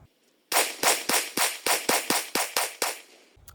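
An Eternal Arms 20 gauge shotgun fires about eleven fast, evenly spaced loud blasts in a rapid string, each with a short decay, outdoors and with no talk.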